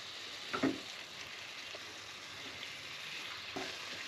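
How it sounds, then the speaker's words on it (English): Steady sizzling hiss of turkey frying in a hot wok, with a couple of brief scraping stirs, close and moderately quiet. "I hear it sizzling, so I'm gonna cut heat to it"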